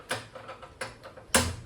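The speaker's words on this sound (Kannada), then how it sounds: "ಈಗ ಫಸ್ಟು ಗ್ಯಾಸ್ ಹಚ್ಕೋಬೇಕು" Clicking gas stove igniter fired three times at home cooking pumpkin halwa, sharp close ticks with the last one followed by a brief soft whoosh of catching flame.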